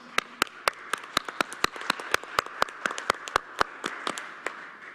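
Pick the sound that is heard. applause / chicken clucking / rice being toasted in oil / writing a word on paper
applause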